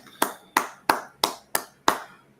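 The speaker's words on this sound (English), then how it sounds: "go ahead and clap it up" A brotherhood class at the Israelite School of Universal and Practical Knowledge in Austin claps together in six sharp, evenly spaced unison claps, each ringing briefly in the room, with no talk.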